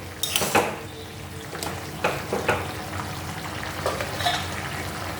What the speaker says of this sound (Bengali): ডাঁটগুলো সিদ্ধটা আরম্ভ হয়ে গেছে।